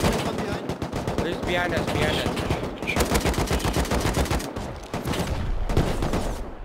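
Dense rapid automatic gunfire during a multiplayer raid in a survival video game, sustained loud bursts with brief gaps, while players talk over the shooting.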